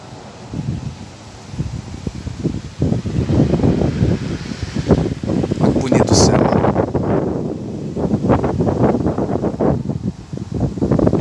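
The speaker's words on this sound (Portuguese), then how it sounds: "E começa a ventar também em função da chuva" Wind picks up in Porto Alegre ahead of heavy rain. Gusty buffeting and rustling build and surge across the whole stretch, and a person talks over the noise.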